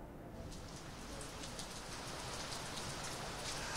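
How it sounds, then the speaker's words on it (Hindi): Heavy rain pours down in Jammu, a dense, steady hiss of drops drumming on surfaces that fills the whole scene without letup. "जम्मू में झमाझम बारिश हो रही है। बारिश बहुत तेज हो रही है"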